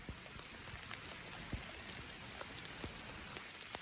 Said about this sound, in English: It's raining so hard, but it's such a warm summer rain